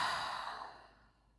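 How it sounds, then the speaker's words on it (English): A single long breath exhaled through an open mouth during a guided breathing and mobility exercise, close and soft, fading steadily to quiet. "releasing all that air through an open mouth"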